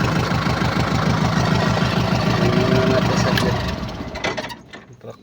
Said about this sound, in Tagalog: Traktora.